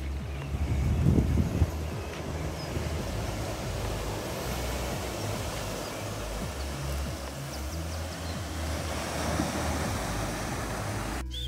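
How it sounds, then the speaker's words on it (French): Steady rushing wash of ocean waves on a shore near Muxía or Fisterra, Spain, mixed with wind buffeting the microphone, continuous and fairly loud with no talking. "J'adore le bruit des vagues."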